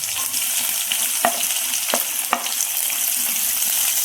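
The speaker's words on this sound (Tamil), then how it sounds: "கடுகு பொரிஞ்சிட்ருக்கு. இப்போ நம்ம வெங்காயம் போட்டுக்கலாம்" Onions frying in hot oil with popped mustard seeds for a Tamil keerai poriyal, a loud, bright, continuous sizzle close up, broken by a few sharp spatter cracks.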